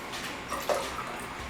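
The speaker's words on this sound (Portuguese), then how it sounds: "colocando a água" Water is poured into a container with a chocolate-milk mix for a classroom thermometry experiment, a soft, brief splash and trickle heard close and quiet against faint room noise.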